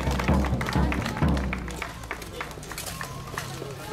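Crowd applause after a staged fight at a historical fair in Jarosław, a dense burst of clapping and cheering with voices talking over it, heavier at the start then thinning out.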